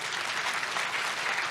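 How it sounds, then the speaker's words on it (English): An audience at an International Anti-Corruption Day event claps for a member of parliament, a brief burst of dense, steady applause filling the room. "Can you wake up and clap for my friend?"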